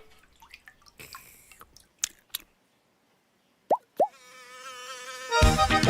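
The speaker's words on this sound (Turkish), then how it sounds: "Oo ve bir sinek." Cartoon fly buzzing in a children's song animation, a sustained whining hum that swells and grows louder toward the end, following scattered cartoon plops and boings.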